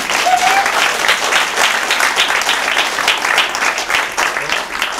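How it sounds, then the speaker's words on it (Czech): Enthusiastic audience applause at a live show, a dense, steady clatter of many hands clapping close and loud throughout. "To funguje, lidi většinou tleskají"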